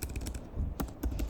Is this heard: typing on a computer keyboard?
yes